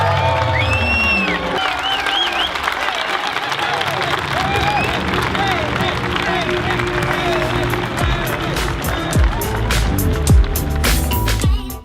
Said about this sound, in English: Let's give a big applause for Gary Vaynerchuk!